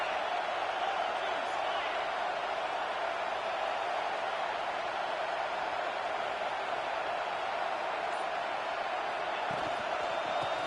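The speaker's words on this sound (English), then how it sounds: "This crowd ready to make its presence known." A stadium crowd in a college football video game roars in a dense, steady wash of cheering that holds at full level throughout.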